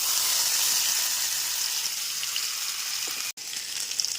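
Pea filling fries on low flame with nigella seeds in mustard oil, making a steady, even hiss close by that cuts out for an instant near the end before the sizzle resumes, no talking.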